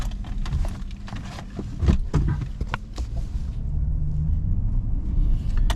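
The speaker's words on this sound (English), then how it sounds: "Hold on, we'll put it in 4-wheel drive." Pickup truck churning through a sloppy muddy patch near a mountain cabin, engine rumbling steadily at close range as it is shifted into four-wheel drive, with mechanical clunks and knocks over the drone.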